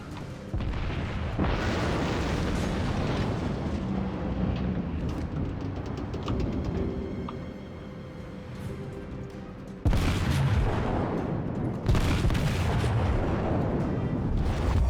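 Naval artillery booms in World of Warships, heavy rumbling salvos and explosions rolling through the whole stretch with dense low-end thunder, and fresh loud volleys striking near the end.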